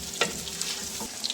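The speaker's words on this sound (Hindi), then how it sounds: "इसको मैं अब भूनूंगी थोड़ी देर अच्छी तरह इसको।" Beef sautéing in a pot for beef pulao with garlic, a soft steady sizzle with a few stirring scrapes, close and fairly quiet with no voices.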